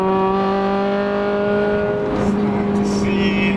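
A Honda Civic Type R's K-series engine revs hard close by, a loud, steady harmonic drone that dips briefly and then climbs again as the car drives along a bumpy road.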